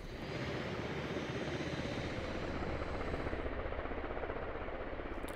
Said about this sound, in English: And Phoenix going to spin up the helicopter.